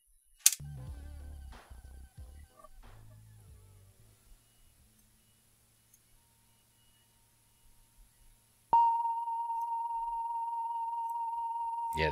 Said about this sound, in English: what I have is a 1 kilohertz sine wave recorded